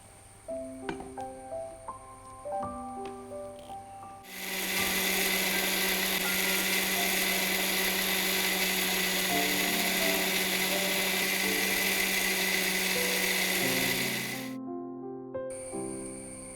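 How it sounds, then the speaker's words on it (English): Kitchen grinder blending cashews, fennel, garlic, chilies and coriander into a curry paste: a loud, steady high-pitched motor whir running about ten seconds, with quieter background music before and after. "And now we are going to grind this to fine and smooth, and we have to make a nice curry paste."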